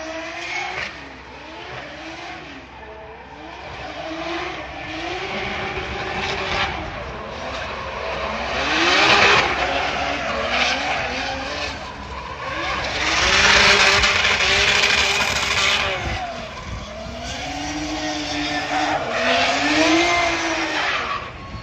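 Several cars drifting in a racing video game, with engines revving and swelling and tires squealing in long repeated slides, loud and continuous with surges of acceleration and no talk.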